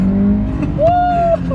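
A car accelerates hard in second gear, its engine tone climbing steadily and loud and close, with the rev rising through the middle of the burst before dropping off.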